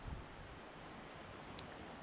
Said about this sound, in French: le vent, les vagues